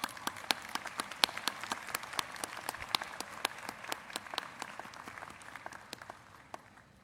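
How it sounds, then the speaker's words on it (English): Audience clapping for a graduate receiving a Master of Fine Arts degree at a university spring commencement, a steady run of distinct sharp claps from a modest crowd that thins out toward the end. "Let's give her a hand clap as we walk back"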